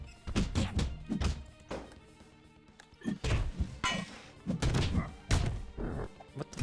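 Repeated hits with a pipe in the video game BROK the InvestiGator land as a rapid series of heavy thunks and whacks, mixed with game sounds and music.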